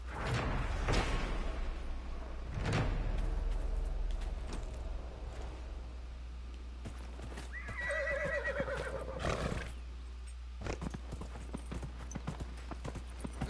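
A horse in Dragon Age: Inquisition trots with loud, close clip-clopping hooves, then lets out a clear whinny midway, with heavy thuds and a low steady hum underneath.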